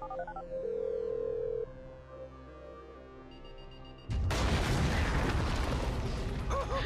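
Phone dialing tones in the video game GTA V as a call is placed to set off a detonation, a sustained tone and beeps followed by a loud explosive blast that fills the remaining seconds.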